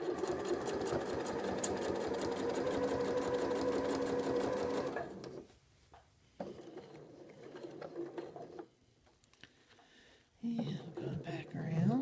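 A sewing machine stitching a quilt guided along a Blue Dahlia ruler template, loud steady rapid whirring for several seconds, then stopping, with brief quieter bursts and handling sounds, and a short restart at the end.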